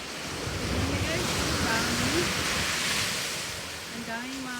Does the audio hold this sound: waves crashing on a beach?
yes